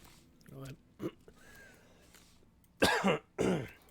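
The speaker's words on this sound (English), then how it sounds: "I apologize for that, clearing my throat." Several throat-clearing bursts and short coughs, near and fairly loud, with a quieter rasp early on and two strong clears at the end.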